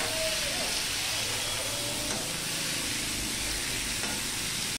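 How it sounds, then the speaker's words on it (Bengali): Diced potatoes and papaya fry together in hot oil with a steady, close, dense sizzle and hiss, faint stirring scrapes underneath and no talking. "এবার আমি আলুটাও দিয়ে দিচ্ছি, একসাথেই ভেজে নিচ্ছি।"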